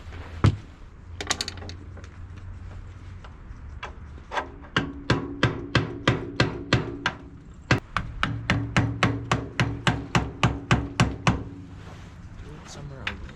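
A screwdriver used as a hammer strikes metal on a Ford 8N tractor clutch during repair, starting with scattered taps and then breaking into rapid runs of sharp, evenly spaced blows, close and loud.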